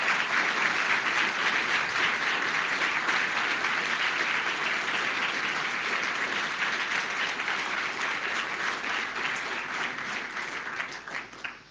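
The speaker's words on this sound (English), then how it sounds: "can you please stand up, and I would like to applaud you" A conference audience applauds its program committee for nearly twelve seconds, steady dense clapping that stays loud throughout and thins slightly at the very end, with no talking over it.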